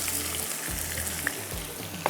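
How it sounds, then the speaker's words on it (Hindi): Finely chopped onion frying in hot oil for achari mutton masala, a close, steady sizzle with a couple of sharp pops, alone without talk. "तो अब इसमें जाएगी ये प्याज"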